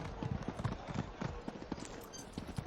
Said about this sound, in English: Oh, interesting horse.